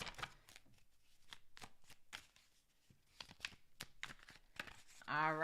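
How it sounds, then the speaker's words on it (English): Tarot cards being shuffled in quick bursts, a series of crisp riffling flutters with short gaps between them, close and fairly quiet, a voice speaking briefly at the end. "Last shuffle."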